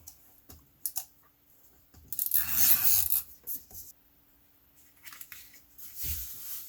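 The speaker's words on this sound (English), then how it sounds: "I'm going to use my little tape runner" A small handheld tape runner lays adhesive tape onto a paper craft project, giving a few close clicks and then a longer scraping, rolling rasp, then more brief taps and scrapes with no talk.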